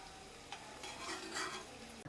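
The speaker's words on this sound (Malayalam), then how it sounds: "ഈ എണ്ണയിലിട്ടിട്ട് ഇതിനി നമുക്ക് നല്ലതുപോലെ ഒന്ന് ഫ്രൈ ചെയ്ത് എടുക്കാം." Halved boiled eggs frying in oil for an egg chilli fry, a quiet continuous sizzle with light stirring and a soft utensil knock near the end.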